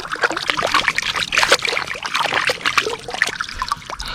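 Fish washed by hand in water, with splashing, trickling and sloshing close by, continuous and fairly loud.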